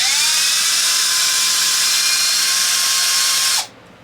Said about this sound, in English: what we want to do is we want to remove the bolts off this diff